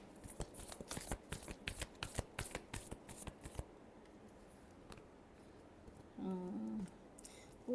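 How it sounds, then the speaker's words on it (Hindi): Tarot cards are riffled and shuffled in a quick run of crisp, close flutters, then the shuffling stops and faint handling follows. "Last shuffle."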